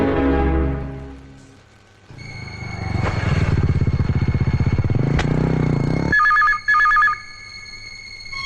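A telephone rings with a bright electronic trill under an engine's rattling rumble, then the ringing continues more clearly once the engine noise cuts off.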